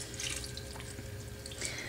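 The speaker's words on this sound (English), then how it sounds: "And then we're going to add in a little bit of water." Water poured into a blender of greens for a green smoothie, a steady liquid trickle and splash running for about two seconds, ending in a brief louder knock.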